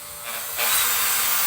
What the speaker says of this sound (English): I've pre-prepared my drill, and we've got something on here called a whiz stick